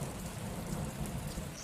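Rain falls in a dense, continuous hiss with a low rumbling undertone, steady and even throughout with no voices.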